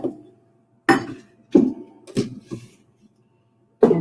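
Dry rolled oats poured from a half-cup measure into a blender jar, landing in a few separate rattling bursts with short gaps between them, close and fairly loud with no talking.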